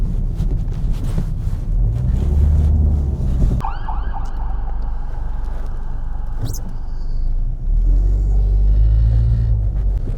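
An ambulance or fire truck siren wails across a rumbling Toronto traffic scene, its rising and falling tone cutting in partway through, fairly close, with steady road noise underneath.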